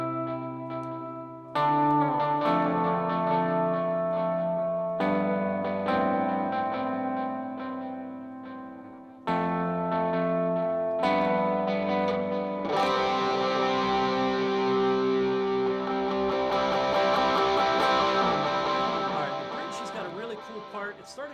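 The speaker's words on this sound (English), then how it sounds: "With this double tap delay that I have, this is how it's going to sound." An electric guitar on the rear pickup played through distortion and a double tap delay, sustained overdriven notes and chords with repeating echoes trailing behind each phrase, moderately loud and close.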